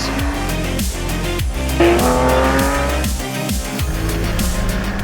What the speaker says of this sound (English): driving over the metal potholes at 40 kilometers an hour